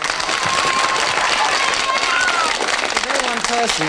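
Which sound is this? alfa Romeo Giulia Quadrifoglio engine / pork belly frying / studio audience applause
studio audience applause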